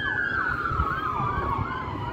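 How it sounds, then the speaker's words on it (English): A wailing emergency siren sweeps up and down continuously, fairly loud and steady, with a low traffic rumble underneath and no talking. "Sorry for the siren going by there."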